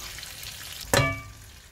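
Chicken pieces in a pan, after wine and water are added, give one sudden loud sizzling burst that then settles into a steady, softer bubbling sizzle, with no talk.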